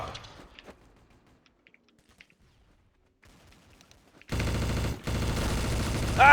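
Counter-Strike: Source gunfire: a few faint clicks over near silence, then a sudden loud, sustained rapid burst of automatic fire near the end, broken by one brief gap.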